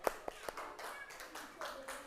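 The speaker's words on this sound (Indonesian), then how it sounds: "Tepuk tangan buat teman kita perwakilan dari kelompok 1." Classroom applause for a student representing the first group: a few sharp claps at the start, then a short ragged burst of quiet clapping from a small group indoors.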